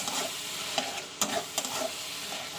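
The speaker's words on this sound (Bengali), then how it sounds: "তো দেখতেই পাচ্ছি আমি আলুটা দিয়ে কষানো শুরু করে দিয়েছি।" Potatoes sizzle and are stirred in a pan with chopped tomato, green chilli and spices. A steady frying hiss runs throughout, broken by a few sharp scraping knocks from the utensil, with no voices.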